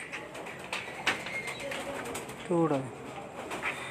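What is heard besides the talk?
blue pigeon cooing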